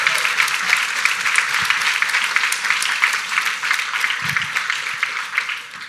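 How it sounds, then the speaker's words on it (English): A crowd at an outdoor-adventure summit applauds hike participants, a loud, sustained round of many hands clapping close by, steady throughout and thinning slightly at the end. "I would love for everybody to give these folks a round of applause."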